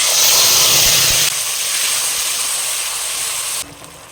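Grated tomato with ginger and green chili paste hits cumin and spices already frying in a pan for a papaya, potato and paneer dish, giving a loud, steady close-up sizzle that drops a little in intensity partway through, with no talking.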